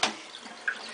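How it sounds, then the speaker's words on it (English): Tap water runs steadily while a pet is rinsed, a soft, quiet hiss of flowing water lasting about a second, with a brief splash at the start and another near the end. "All right, I'm turning off the water."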